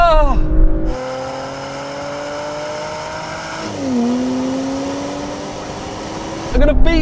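A BMW X3, Porsche Macan GTS and Mercedes GLC 43 launch in a drag race, engines revving hard and pitching up through gear changes, loud and close, with brief exclamations from onlookers at start and end.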